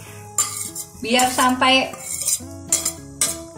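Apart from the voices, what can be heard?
chicken and tofu put into boiling water in a pot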